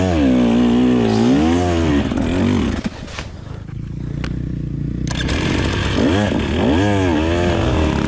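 Dirt bike engine revving hard in a muddy hare scramble race, the rear wheel spinning without traction; loud, close, sustained wavering revs that dip briefly then surge again.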